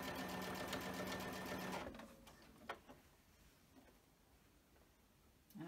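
A sewing machine stitches binding fabric for a quilted piece in a rapid, loud, even mechanical run for about two seconds, then stops, leaving a few light clicks and handling noises.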